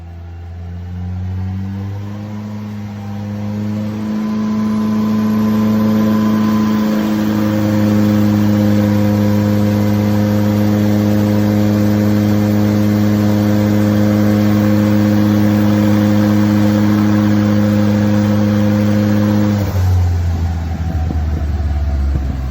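Ford Fiesta RS fitted with a Focus RS turbo engine on a dyno, droning loud and steady as it climbs slowly through the rev range, then drops back toward idle near the end.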